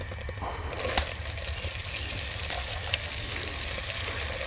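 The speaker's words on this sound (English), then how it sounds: "I'm cooking the onion and the rest of the ingredients right in that bacon grease." Onion cooking in bacon grease for clam chowder gives off a constant low sizzle and crackle, with a couple of small pops and clicks scattered through.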